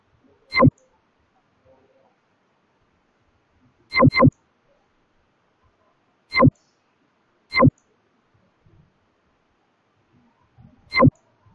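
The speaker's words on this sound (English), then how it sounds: "and click on submit." Sharp computer mouse clicks in the surgery discharge section of a hospital management software, spaced irregularly with a quick double click near the middle, close and crisp against a quiet room.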